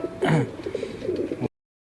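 A Ferozpuri pigeon gives a brief, close, low coo, a short throaty burst followed by a few softer rolling pulses before the sound stops.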